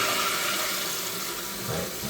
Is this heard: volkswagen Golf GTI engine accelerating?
no